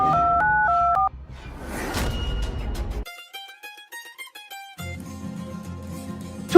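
A phone is dialed with a quick run of alternating keypad tones, then electronic beeps and melodic tones follow, close and clear with no one speaking.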